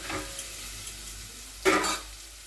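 Chili powder fries in a little oil, giving a low steady sizzle with a brief, louder burst of stirring and crackle partway through.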